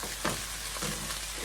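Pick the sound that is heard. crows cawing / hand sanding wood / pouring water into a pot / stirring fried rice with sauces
stirring fried rice with sauces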